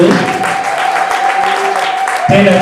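During a bishop's ordination ceremony, a church congregation claps, steady applause running throughout with a voice over it and a sharper swell at the end.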